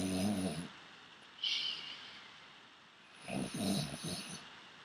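A person snoring during a yoga relaxation rest, with two drawn-out rasping breaths separated by a quieter pause, close and fairly soft.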